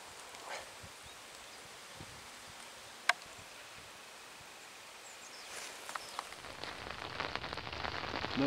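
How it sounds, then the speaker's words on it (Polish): Rain patters steadily on a surface beside the water during a float-fishing outing, quiet at first and swelling louder with a dense hiss toward the end, with one sharp tap partway through. "No jak sami widzicie, deszcz się rozpadał."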